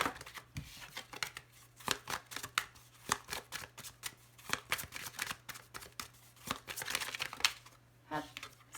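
Tarot cards are shuffled close by in quick papery riffles and soft slaps, a steady run of crisp card flutters with a few short pauses, faint and intimate throughout.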